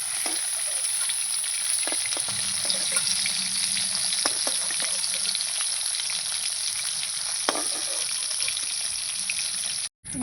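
Hilsa fish fry in oil in a pan (a kadai), giving a steady, loud, broadband sizzle with occasional soft pops and clinks. No voices are heard, and the sound cuts off abruptly near the end.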